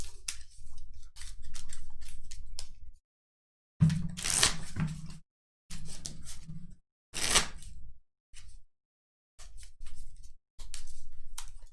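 A deck of Star Wars CCG cards is shuffled by hand in close, crisp bursts of riffling and sliding, broken by short pauses between passes.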